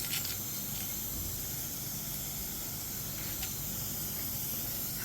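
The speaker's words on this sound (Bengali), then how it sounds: "এর মধ্যে আমি 2টো শুকনো লঙ্কা আর এই জিরেটাকে ফেলে দেবো" Dried red chillies and whole cumin seeds sizzle in hot oil for Bengali mung dal with mixed vegetables, giving a steady close hiss of frying throughout with a few brief crackles.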